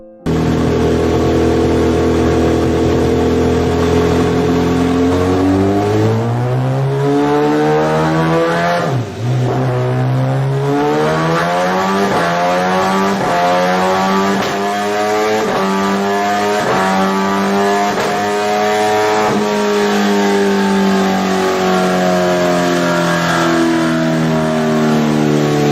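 An MV Agusta F4 sport motorcycle engine revs loudly and close, pitch climbing and dropping through repeated throttle blips and sustained high revs, with no voices.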